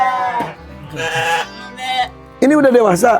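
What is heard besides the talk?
sheep bleating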